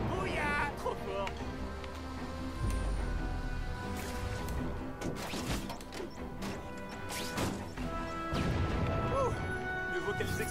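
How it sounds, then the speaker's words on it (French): Car bombs explode in The Amazing Spider-Man 2 video game as a series of loud crashes and impacts over busy game sound effects and music, with someone talking throughout. "Mieux vaut qu'elles explosent en l'air."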